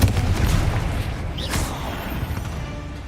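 Explosive Confringo blasting spell impact in Hogwarts Legacy, a loud booming burst at the start with rumbling decay and a brief whoosh midway, steady low roar beneath.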